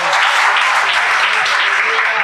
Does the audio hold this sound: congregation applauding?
yes